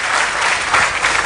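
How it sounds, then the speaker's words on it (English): At an ambassadors conference, a hall audience breaks into a short, loud, dense burst of clapping that stays level for about a second. "So another round of applause."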